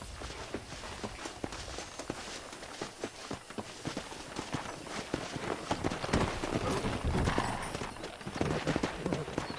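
Horse hooves clip-clop steadily across the ground in the Western video game Red Dead Redemption, a continuous rhythmic walking-to-trotting gait that grows louder and busier in the second half, with no talk over it.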